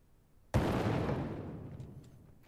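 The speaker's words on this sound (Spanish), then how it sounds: "¿Cómo ver la explosión de la granada?" A grenade blows up in the World War I shooter game Resolve, a sudden loud blast followed by a long, rumbling decay that fades over about two seconds, heard alone without speech.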